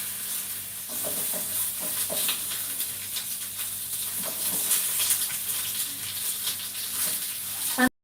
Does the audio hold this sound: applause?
no